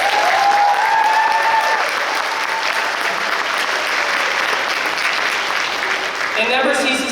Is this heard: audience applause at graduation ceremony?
yes